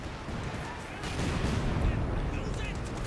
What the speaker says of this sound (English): Here comes an artillery strike.